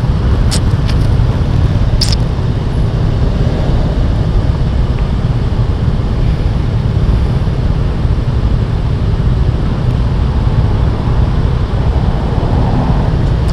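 Road traffic jam on a boulevard in Bacoor, Cavite, a loud, steady drone of idling and slow-moving vehicles heard from close by, with a few faint high clicks early on.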